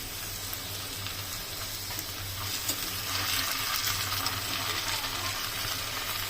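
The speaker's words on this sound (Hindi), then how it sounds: "मस्त कड़क ये ट्विस्टर को फ्राई कर रहा है" Potato twisters frying in hot oil, a steady dense sizzle with bubbling crackle that grows a little louder midway and continues for several seconds, close by with no talk.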